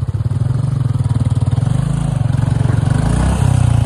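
A Royal Enfield Bullet 350 motorcycle thumps loudly and steadily while off-roading, its single-cylinder engine holding a strong, rapid pulsing rhythm up close and revving a little harder toward the end.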